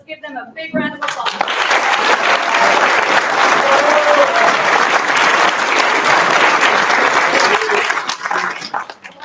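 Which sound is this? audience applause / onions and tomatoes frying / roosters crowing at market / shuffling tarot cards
audience applause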